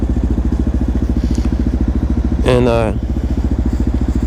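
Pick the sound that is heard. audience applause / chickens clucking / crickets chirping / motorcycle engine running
motorcycle engine running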